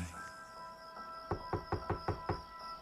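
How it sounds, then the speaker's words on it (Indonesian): Six or seven firm knocks on a bedroom door at night, evenly spaced and fairly loud over a steady humming background. "ada yang mengetuk pintu kamarku dengan keras hingga membuatku terbangun"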